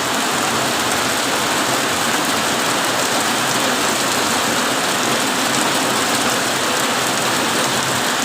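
Heavy rain pours steadily at a rural cattle farm in Ban Nong Don, Thailand, a loud continuous hiss that fills the whole stretch with no talking.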